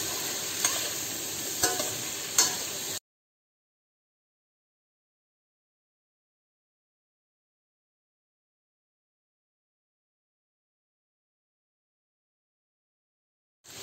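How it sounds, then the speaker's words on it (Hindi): Spices are stirred into ash gourd (petha) curry in a pan: a few seconds of sizzling and scraping spoon strokes with sharp clicks, followed by a long stretch of silence. "मसाले मेरे सब्जी में अच्छे से मिक्स कर दिए"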